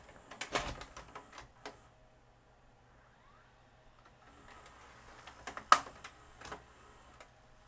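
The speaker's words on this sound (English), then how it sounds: "Watch the loading motor right here." The loading mechanism of a Magnavox ZV457MG9A VCR strains to load a tape, with faint, uneven mechanical clicks and ticks in two clusters over a low, quiet hum.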